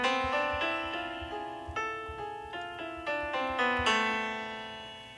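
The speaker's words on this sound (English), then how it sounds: "And a harmonic minor scale would sound like this." A harmonic minor scale played note by note on a bright, piano-like instrument, climbing through about a dozen evenly spaced tones. Each note rings clearly and decays on its own.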